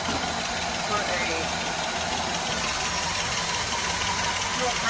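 A 1948 Woody car engine idles after carburetor repair, a steady, even mid-pitched running hum with a slight knock, close and continuous, with someone talking over it.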